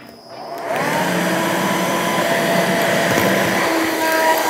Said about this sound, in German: habe ich mir einen Staubsauger mitgenommen